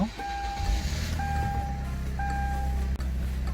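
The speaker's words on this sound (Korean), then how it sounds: "자, 시동 한번 걸어볼게요." A used Kia Sorento R 2.0 TLX with 146,807 km is started by push button. A steady low engine idle hums under three evenly spaced electronic chime tones.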